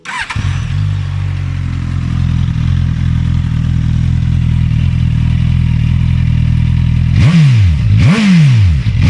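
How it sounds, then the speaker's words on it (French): A 2019 Suzuki Katana motorcycle cranks with its Easy Start button and settles into a steady, loud idle close by, then gets two sharp throttle blips near the end that rise and fall. "je vais vous le faire écouter de ce pas, grâce au magnifique bouton Easy Start, qui permet de démarrer la moto juste en appuyant."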